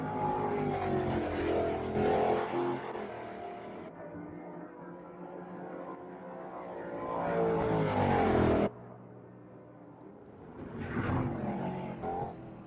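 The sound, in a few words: race cars roaring in a sim racing video game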